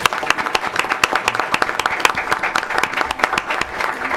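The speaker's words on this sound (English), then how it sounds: "I just want to give them a round of applause." An audience at a Rialto school district board of education meeting breaks into lively applause, many hands clapping in a dense, uneven patter that continues throughout.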